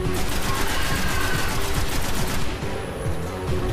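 Enemy gunfire in the video game Destiny rattles in rapid continuous bursts, dense and loud, easing slightly near the end.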